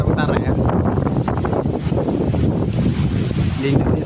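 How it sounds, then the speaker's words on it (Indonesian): Strong, gusty wind blowing hard during a windstorm in North Sumatra, Indonesia, a steady loud roar of broadband noise with heavy buffeting on the microphone, continuous throughout with no break. "fenomena angin kencang"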